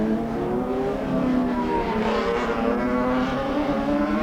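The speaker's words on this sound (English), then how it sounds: "Here's Richard Scott, the NS500 Honda with 3 laps to go, being absolutely masterful on this circuit." A Honda NS500 racing motorcycle lapping a circuit during a race, its engine a loud, steady buzzing drone with a strong pulsing rhythm that holds throughout, heard alone without talk.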